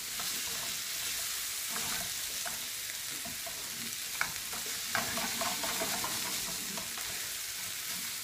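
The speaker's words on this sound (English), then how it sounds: "And then what we want to do is with our spoon, get this mixed in." Tomato paste, onions and peppers sizzle in a pan for a ratatouille while a spoon stirs and scrapes through them. The soft, continuous frying hiss carries scattered clicks of the spoon and no talking.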